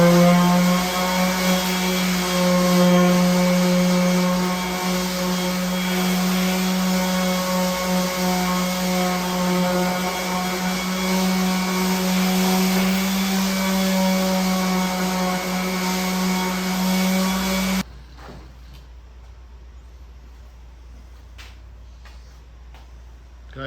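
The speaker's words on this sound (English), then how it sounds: "Okay guys, I got the sander out." A power sander runs continuously on wood, giving a loud steady hum with a buzzing tone for about eighteen seconds before cutting off sharply to near silence.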